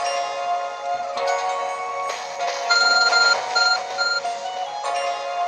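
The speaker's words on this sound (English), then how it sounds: "Your arc phone is beeping." Arc Phone in Pokémon Legends: Arceus beeping, a steady electronic chime with repeated short bright tones layered over a sustained synthetic game melody, loud and clean with no voices.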